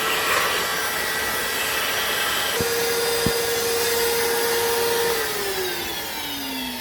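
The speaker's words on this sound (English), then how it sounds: "So clean it like so, as much as it can be, only with vacuum." Close by, a vacuum cleaner cleans around the fragile, rust-affected radiator of a 2007 Lexus IS 250, making a steady, loud airy roar with a brief tonal whine that shifts pitch as the nozzle moves, and one short spoken word.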